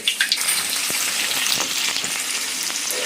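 Curry leaves dropped into hot oil for a Hyderabadi chicken curry, giving a loud, dense sizzle and crackle with a few sharp pops at the start, then an even, continuous frying hiss.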